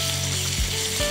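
About a teaspoon of green coriander hits hot tempering oil for carrot raisin rice, giving a steady, close hiss and sizzle with no talking.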